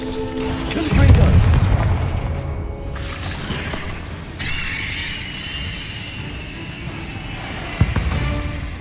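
The Confringo blast spell in Hogwarts Legacy detonates with a heavy booming burst, followed by crackling debris and shimmering magical effects over steady game ambience, fairly loud, with speech in between.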